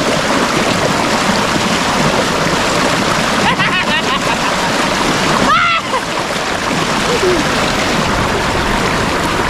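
A strong river current rushes and splashes in a steady, loud, broadband roar, close by, with brief voices and splashing partway through.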